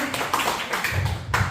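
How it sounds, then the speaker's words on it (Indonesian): A small group claps at the close of a school dissemination session, with a handful of uneven, fairly close claps and some low murmuring underneath. "tepuk tangan dulu ya"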